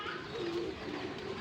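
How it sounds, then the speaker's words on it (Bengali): Pigeons outdoors in light drizzle give a soft, low cooing that rises and holds briefly, fairly quiet against a faint steady background hiss. "আপনারা দেখতে পাচ্ছেন কবুতর আস্তে আস্তে বের হয়ে আসতেছে"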